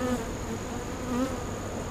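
Honeybees hum around an open hive during a late-August inspection, a steady low buzz at moderate level with no talking.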